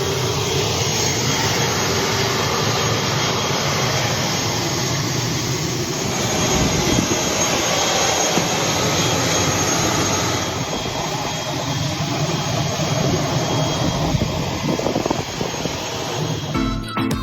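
ATR 72-600 turboprop engines running steadily on a small airport tarmac in Georgetown, a loud continuous roar with a broad rushing hiss that holds for the whole stretch, close and alone without voices.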